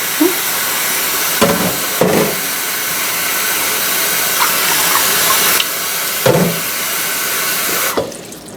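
Water from a kitchen sink tap streams steadily over a Thrunite TN32 flashlight, a continuous close hiss broken by a few brief splashes and shifts in the flow as the light is moved under it.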